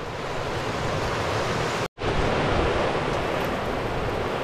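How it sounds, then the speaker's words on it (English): Continuous roaring rush of river rapids full of standing waves in freezing cold water, heard from a canoe as a loud, steady broadband wash with one brief dropout. "Lots of standing waves in there."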